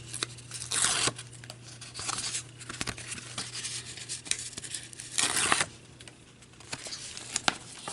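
Adhesive backing strips peeled off pieces while making a Christmas candy bar treat box, heard as two close, dry tearing rips with light rubbing and crinkling between them over a steady low hum.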